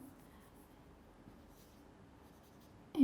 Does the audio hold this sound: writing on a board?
yes